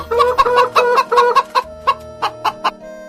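Chickens cluck in a quick series of about ten short, loud bursts, close and alone, during a hen dart game in a village scene of a Zelda: Ocarina of Time parody.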